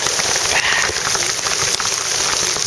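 Cold, hard rain pelting down outdoors during a squall on open water, a dense hiss of drops hitting surfaces close to the microphone, steady and loud throughout.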